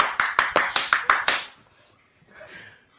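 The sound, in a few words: people clapping hands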